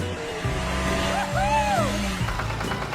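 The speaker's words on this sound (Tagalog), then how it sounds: "Mabilis na umandar ang kotse." A shiny red cartoon car speeds off fast with rising engine whines and a swooping, tire-squeal-like sweep, set against an animated music bed.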